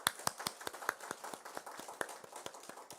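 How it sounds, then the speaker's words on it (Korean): A church congregation at a Sunday worship service claps in welcome, a sparse, uneven patter of individual hand claps at close range, each one sharp and distinct, without talking. "환영의 박수 한번 주세요."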